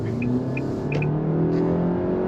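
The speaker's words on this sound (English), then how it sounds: "I'm just kind of curious in acceleration on this 4-cylinder inline engine." A 2025 Nissan Altima SR with an inline 4-cylinder engine and CVT accelerates, its steady engine drone holding close and loud from a cabin perspective, with brief high chirps overhead.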